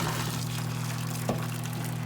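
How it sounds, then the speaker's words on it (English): Hot water and boiled lobsters are poured from a pot into a kitchen sink, a brief steady splashing pour with a low hum beneath. "we're going to dump them right in the sink."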